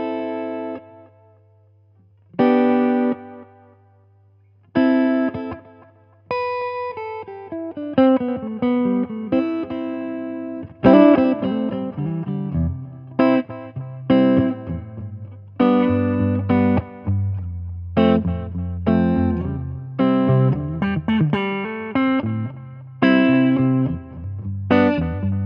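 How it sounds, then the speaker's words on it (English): Guitar played through a tape echo delay pedal, a series of plucked notes and chords with wobbling repeats trailing behind each one and long feedback, heard alone without talking. "Tape echo. Yeah, it wobbles around a little."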